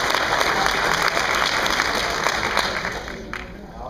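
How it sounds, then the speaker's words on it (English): A crowd at a public gun discussion event breaks into sustained applause, a thick even roar of clapping that tapers slightly toward the end. "You're gonna applaud for me"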